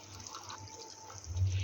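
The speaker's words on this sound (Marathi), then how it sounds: "इथे मी थोडेसे पाणी ओतून घेतले आहे" Hot water pours steadily into a pot of cauliflower curry, a soft continuous trickle that swells louder toward the end.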